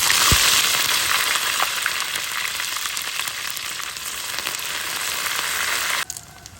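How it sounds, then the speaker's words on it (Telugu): Dried shrimp sizzle and crackle steadily in hot oil in a pan, a dense, loud frying hiss that carries on without pause before cutting off abruptly near the end. "మళ్ళీ ఇదే నూనెలో ఇంకొన్ని ఎండు రొయ్యలు వేస్తున్నాను"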